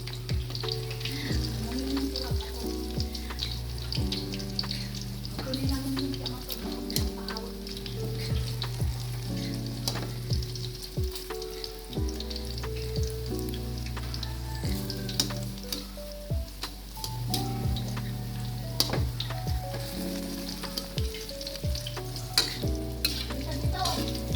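Continuous sizzling of saba bananas frying in hot oil, with crackles and pops throughout, while music plays steadily in the background.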